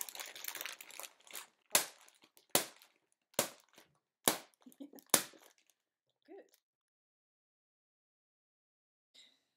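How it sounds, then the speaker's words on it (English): Sharp rattling shakes of a bag of dry pasta used as a samba-style shaker, six distinct loud bursts at a steady pulse, close by, then fading to near silence. "you can just get a bag of pasta and whack that"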